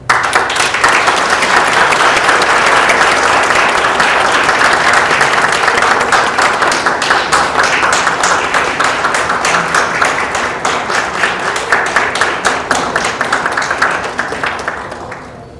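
Sustained audience applause in a lecture hall after a keynote talk, dense and loud clapping from many hands that holds evenly for about fifteen seconds before tapering off at the end.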